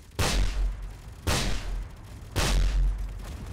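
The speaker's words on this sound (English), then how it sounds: "Those rockets do just keep hitting into me." Rockets exploding in the space video game Space Engineers, three loud deep booms spaced about a second apart, each with a rumbling tail, and no voices.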